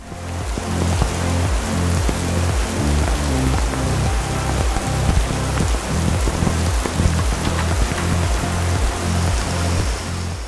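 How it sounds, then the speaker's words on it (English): Heavy rain pours down on a parking lot in Croatia, a loud, dense hiss of drops beating on hard surfaces, constant from start to finish with no voices. "it rained even harder, making covering the bikes a wet mess"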